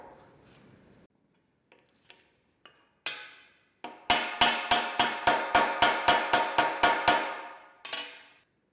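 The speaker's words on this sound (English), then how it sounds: "Then all it needs is a few taps to push it home." Hammer tapping a universal joint bearing into its yoke: a few scattered light taps, then a fast, loud, evenly spaced run of about a dozen sharp metallic blows, ending with one last ringing strike; no talking.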